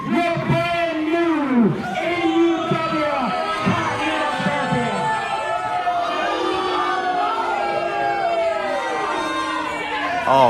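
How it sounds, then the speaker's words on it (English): Wrestling event crowd yelling and cheering steadily at moderate loudness throughout, with several voices shouting and commentators talking over it. "You hear that crowd?"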